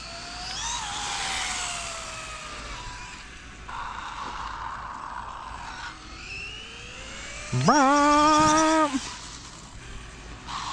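A motorcycle engine revs repeatedly while the rider pulls wheelies on the street, with rising and falling whines at moderate distance and one loud, close, sustained rev near the end.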